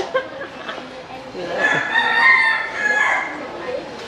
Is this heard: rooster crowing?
yes